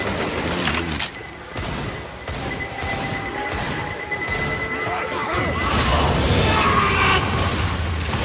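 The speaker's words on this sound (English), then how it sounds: "Throwing a pipe bomb." A pipe bomb goes off in the zombie shooter Left 4 Dead 2 amid a dense burst of gunfire and crashing impacts. Voices talk over the loud, busy battle noise.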